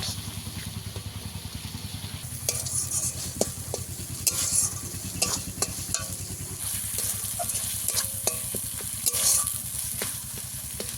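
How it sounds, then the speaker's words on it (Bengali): Spice paste for a fish curry sputters and sizzles in hot oil while a spoon stirs it in repeated scraping strokes, close and steady with a low rumbling hum underneath and no voices. "তারপরে একটু কষিয়ে নেব।"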